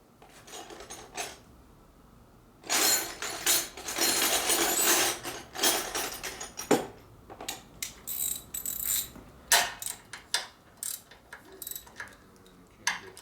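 A ratchet wrench clicks on the top-end bolts of a 1958 Harley-Davidson 74ci panhead engine during a rebuild, with a long burst of ratcheting followed by shorter scattered clicks and metallic taps close by.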